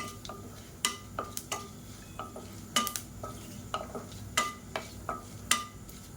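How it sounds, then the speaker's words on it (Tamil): Whole spices such as cloves, cardamom and fennel seeds fry in oil in a pan for kurma while a spoon stirs, with scattered metallic scrapes and clinks over a soft sizzle, no talking. "எல்லாத்தையும் நல்லா வறுத்துக்கலாம்"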